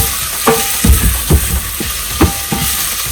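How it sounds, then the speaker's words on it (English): Onions frying in a pan for Nigerian meat pie: a steady close sizzle with repeated sharp scrapes and stirring knocks about every half second, no voices. "Onion is caramelized with this maybe a little bit, and it turns translucent."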